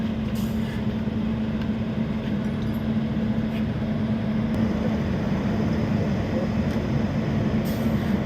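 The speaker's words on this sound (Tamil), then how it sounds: "3044-9 என்று சொல்லக்கூடிய வேப் 7 இன்ஜின் முதல் முறையாக போடிநாயக்கனூர் ரயில்வே ஸ்டேஷனுக்கு வந்திருக்கு" WAP7 electric locomotive 30449 arriving at Bodinayakanur railway station, a steady low hum and rumble with faint clanks, moderately distant and continuous.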